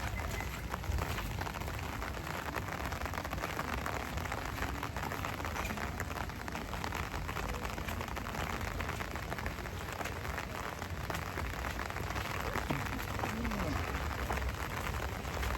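Heavy rain pours outdoors in a dense, steady hiss that fills the whole stretch without letting up, with a voice speaking beneath the downpour.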